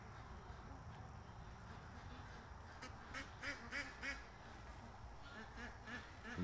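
Ducks quack near a creek at the distance, a faint scatter of calls that bunches into a quick series in the middle and returns near the end over a low outdoor hum.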